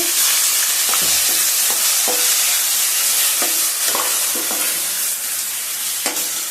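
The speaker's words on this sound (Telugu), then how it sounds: "తాలింపు గింజలు దూరంగా వేగిన తర్వాత కరివేపాకు వేసుకొని ఈ మిక్సీకి వేసుకున్న చట్నీని వేసుకోవాలండి." Ground bottle gourd chutney hits hot oil tempered with seeds and curry leaves, giving a loud, continuous sizzle with scattered scraping and stirring clicks from the pan.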